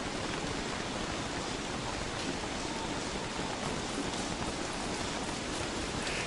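Steady rain pours without a break in the survival game Don't Starve, a dense, even hiss with soft pattering drops throughout and no voices over it.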